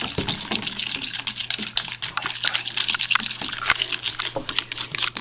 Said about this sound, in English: you stir for a few minutes